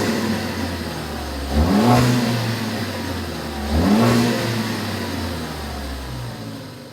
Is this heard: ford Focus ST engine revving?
yes